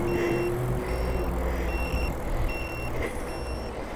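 An electronic turn-signal beep from a Velotric Breeze 1 e-bike repeats in an even rhythm of short, high tones over a low road and vehicle rumble outdoors.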